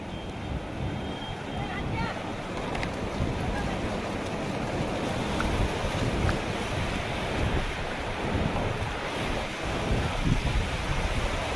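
Flood water rushes over a bridge as a continuous broad roar and churning wash, steady and fairly loud, with wind buffeting the microphone and people talking over it.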